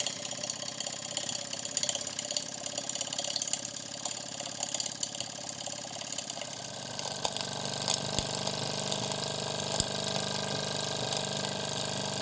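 A Steamco STC-04 model steam engine runs on fuel gel, giving off a steady, close mechanical whir and hiss that picks up a little and holds even throughout, with no talking.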